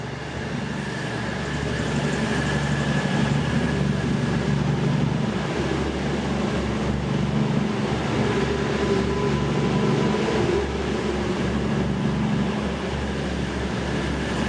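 A train runs on the Glasgow & South Western Railway with a steady, continuous rumble and hum of wheels and engine. The sound stays even and moderately loud throughout, with no talk.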